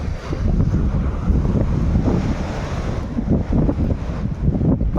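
Wind and surf on a Konkan seashore during a fishing outing, a steady loud rush of waves and wind buffeting the microphone throughout, with no voices.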